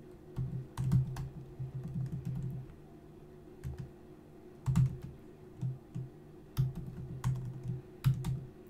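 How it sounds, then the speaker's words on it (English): Keys clack on a computer keyboard in short bursts of typing, close and crisp, with brief pauses between clusters of keystrokes and no talking. "And you can just type in your question."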